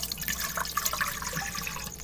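Water poured into a cooking pan, a steady liquid splashing and trickling that runs continuously for about two seconds, fairly quiet and close with no voices.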